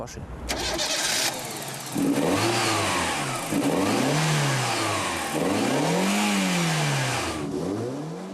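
First-generation Seat Ibiza with a 1.2-liter 71-horsepower engine, revving through rising and falling sweeps several times, loud and close, with someone talking over it throughout.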